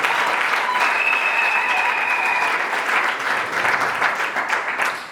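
Guests at a civil wedding ceremony in Libreville break into loud, sustained applause close by, a dense wash of clapping that runs for several seconds before tapering off, with a faint whistle-like tone early on.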